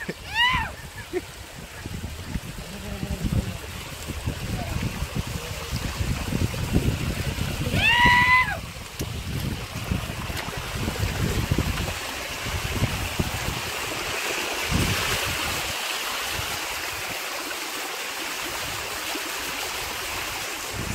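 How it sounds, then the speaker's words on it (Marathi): Steady rushing water roars throughout, a broad continuous wash from a nearby waterfall at Rajgad fort, with brief voices and a faint chirp rising above it. "आता माझ्यासमोर धबधबा आहे"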